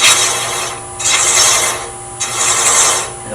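Threads cut by hand into ebony wood, a close, loud rasping sound in long strokes of about a second each, separated by short pauses.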